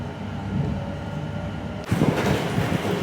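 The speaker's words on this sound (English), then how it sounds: "I can hear our other train just coming in" A train pulls into Brimsdown station, its rumble building steadily, then turning louder and rougher partway through with wheel and carriage noise close by.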